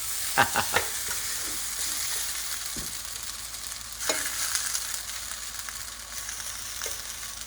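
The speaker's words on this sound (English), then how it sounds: "So we're gonna stir this noodle for a couple minutes and come back." Lo mein noodles sizzle steadily in a hot pan as they are stir-fried, with a few sharp clatters of the utensil against the pan over a continuous frying hiss.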